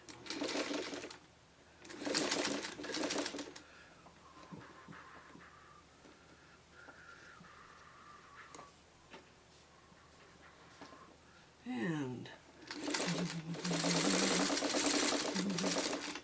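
A sewing machine stitches a Chutes and Ladders quilt block with half square triangles in short, fast buzzing runs, three bursts separated by quiet pauses filled with faint handling noises, close and clear.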